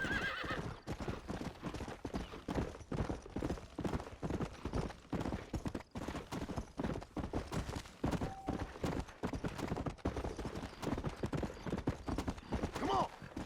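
Horse hooves clip-clopping in the Red Dead Redemption video game, a rapid, uneven galloping rhythm close up with occasional neighs, while someone talks over the action.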